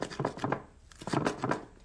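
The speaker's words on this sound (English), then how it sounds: "Chop this up." A knife chops a large handful of fresh cilantro on a board in quick, close, soft thuds, in two short bursts.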